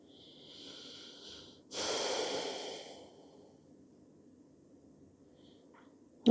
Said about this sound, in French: Et on respire ici dans la posture.